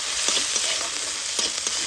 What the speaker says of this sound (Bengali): আদাটা একটু ভেজে নেব